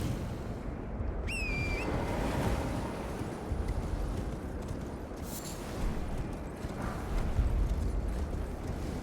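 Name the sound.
horse galloping in the video game Elden Ring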